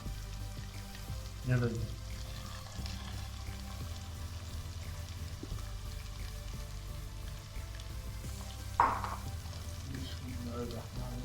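Bitter gourd and onion sizzle quietly in hot oil, a soft steady crackle with a couple of sharper splashes as pieces drop in; a voice speaks briefly over it.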